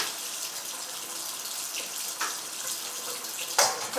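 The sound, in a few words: cold tap water running into a drainer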